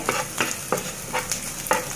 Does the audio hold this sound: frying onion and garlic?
yes